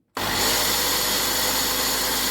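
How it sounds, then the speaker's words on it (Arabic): An electric grinder starts abruptly from silence and runs at a loud, steady whine while grinding sesame seeds and flour for tahini, with no talking. "وهنبدا نطحن السمسم والدقيق بتاعنا"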